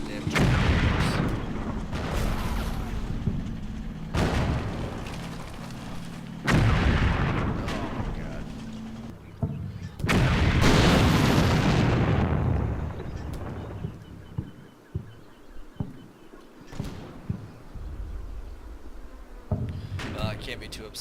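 Heavy mortar and artillery fire booms repeatedly in the WWII game Combat Mission Final Blitzkrieg, loud rolling blasts with long decaying rumbles, and someone talks between the explosions.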